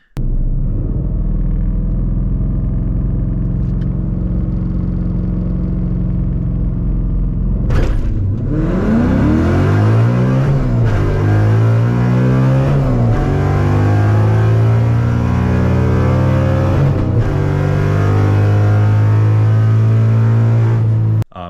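A Ford Mustang GT with Cobra Jet intake manifold and weight reduction idles with a deep, loud rumble, then launches down a drag strip, engine revving hard through rising gear sweeps and shifts for the rest of the run.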